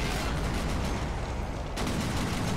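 Artillery fire in a Plastic Army Men video game mod, a dense, continuous rumble of overlapping blasts and shots, loud and unbroken throughout.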